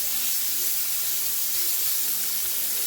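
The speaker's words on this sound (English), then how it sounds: "Got my sausage getting nice and brown." Sausage browning in a pan coated with a thin film of oil, giving a steady, close, continuous hiss and sizzle that holds at an even level throughout with no pauses.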